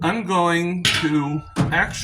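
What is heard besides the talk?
No everyday noise stands out behind the speech.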